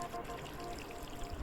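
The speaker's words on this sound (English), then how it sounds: "I'll take some water in my cup" Water pours briefly into a cup in the Detective Mimo mobile game, a soft, quiet trickle heard on its own for a moment.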